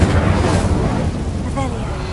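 An Incendio fire spell cast in Hogwarts Legacy lets out a loud, rumbling whoosh of flame with a deep burst up front, sustained for about two seconds before easing off.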